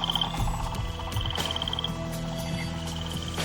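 Frogs croaking as a plague of frogs in a dramatized children's Bible story, with repeated rhythmic croaks and tonal calls over a quiet background, moderately faint and with no speech.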